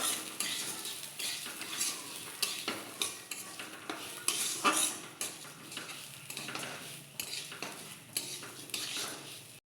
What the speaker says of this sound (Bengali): ডালটা আমার ভাজা হয়ে গেছে